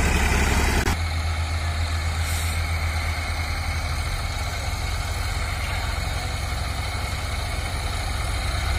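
Massey Ferguson 245 tractor, a 2020 model with a 50 HP engine, hauling a loaded potato trolley; its engine runs as a loud, steady low rumble throughout, after a brief louder burst at the start.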